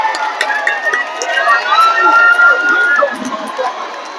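Cheering crowd of spectators at an under-21 world championship beach volleyball match, a steady broad wash of voices and shouts kept up throughout, with a commentator talking over it.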